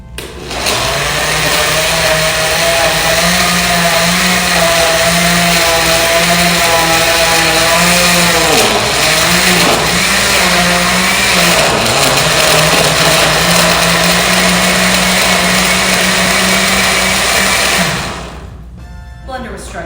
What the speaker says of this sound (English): Blender was struggling a little bit there.